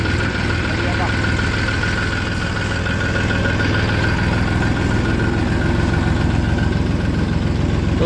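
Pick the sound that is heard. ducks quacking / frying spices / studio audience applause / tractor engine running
tractor engine running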